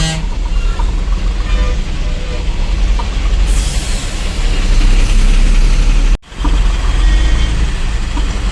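Road traffic heard from inside a loaded goods truck stuck in a heavy jam near a diversion, with a steady engine rumble, broadband road noise and distant horn toots; a person speaks throughout.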